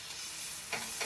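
Eggs frying in butter in a pan give a steady, close, soft sizzle, with a couple of brief louder crackling flares near the end.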